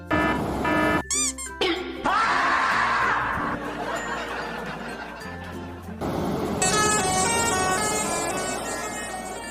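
Toy telolet bus horn: a fairly quiet electronic device playing a series of bright, melodic horn-like tunes in distinct bursts, changing pitch between segments, with short gaps between them.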